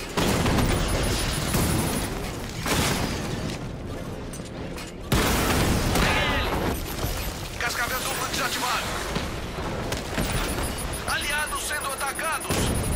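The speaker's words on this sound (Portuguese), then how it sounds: "Da onde que tô levando o tiro?" Dense bursts of gunfire and explosions in the video game Batman: Arkham Knight, loud and continuous, with brief lulls, under occasional voices.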